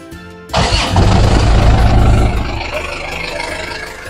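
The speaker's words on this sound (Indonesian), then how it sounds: "Kita nyalakan mesin" An Isuzu New Panther diesel car engine cranks and fires up loudly after a quiet start, then settles into a steady, rough idle just after fuel and oil filter replacement.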